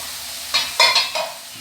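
Potato chips frying in oil in a pan: a brief steady hiss broken by a few sharp scraping stir strokes close by.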